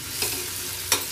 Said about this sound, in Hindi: तो इसको हम भून लेंगे